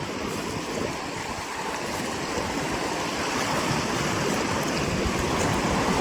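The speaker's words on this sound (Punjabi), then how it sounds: "ਪਾਣੀ ਬਹੁਤ ਤੇਜ਼ ਆ" Loud, continuous rushing of fast-flowing floodwater in Punjab's Majha region, a dense roar that swells slightly toward the end, with no voices.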